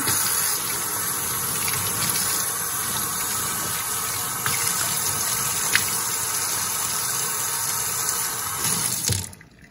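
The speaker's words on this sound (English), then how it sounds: "But get some hot water going." Hot water runs steadily from a tap into a sink while wool-felting soap, a continuous broadband splashing rush that stops abruptly near the end.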